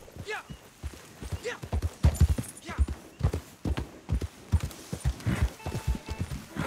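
Horse hooves clopping in Red Dead Online, a rhythmic close gallop under a man's intermittent speech.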